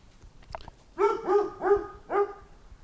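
A dog barks four times in a steady series in Idaho, fairly close and loud, with brief pauses between the barks.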